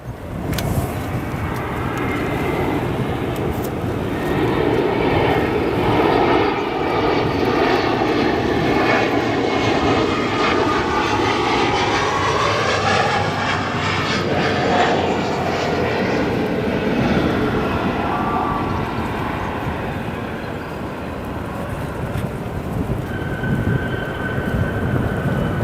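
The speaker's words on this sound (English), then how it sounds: "SkyWest Airlines from Des Moines, Iowa. Flight 5752 on this Embraer" A SkyWest Airlines Embraer 175 regional jet arriving at Chicago O'Hare roars steadily and loudly for the whole stretch, the engine tone sweeping and shifting as it passes close by, with no talk over it.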